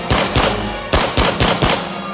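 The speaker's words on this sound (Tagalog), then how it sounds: "bigla akong makarinig ng sunod-sunod na malakas na putok ng baril" A sound effect of rapid, loud gunfire: several close, sharp bursts of shots crack out in quick succession, alone with no voices.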